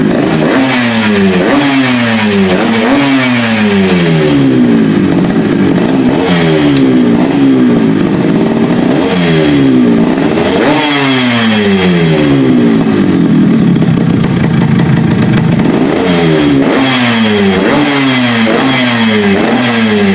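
A two-stroke King Cobra motorcycle engine is revved repeatedly, loud and close, its pitch climbing and falling in sharp, rhythmic bursts with a raspy, buzzing exhaust tone and no talking.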